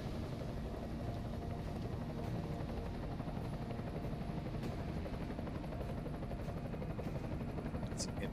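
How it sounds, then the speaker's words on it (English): An enemy helicopter in the video game Deus Ex: Mankind Divided gives off a steady, loud rotor drone that fills the whole stretch without a break. "Enemy helo sighted."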